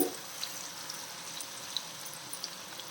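Mango pieces frying in oil for a mango pickle: a steady, soft sizzling hiss with scattered small pops and crackles, continuous and fairly quiet, with no talking.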